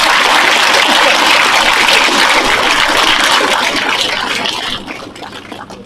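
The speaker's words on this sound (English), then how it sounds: "So you can clap." Audience applause at a dedication ceremony for a football coach's performance center, a dense, steady wash of clapping that thins out and fades near the end.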